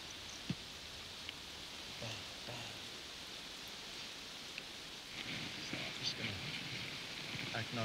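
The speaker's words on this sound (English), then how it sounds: "Boy, did it rain." Steady rain falling in a forest, with a soft continuous hiss and a few sharp knocks and drips scattered through it, fairly faint with no voices.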